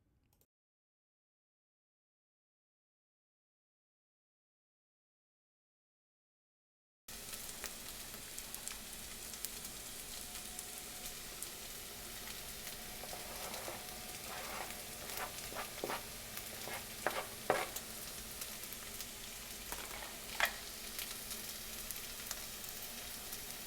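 Garlic and onions sauté in oil in a pan for a tomato sauce, giving a steady, quiet sizzle with occasional light clicks of stirring. Silence comes first, then the frying begins and runs on without talk.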